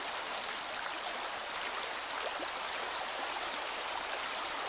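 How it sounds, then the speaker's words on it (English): Water flowing in a stream near the shore at a quiet outdoor spot with trees, a steady, even rushing and trickling that continues unbroken, with no voices. "And listen to the water."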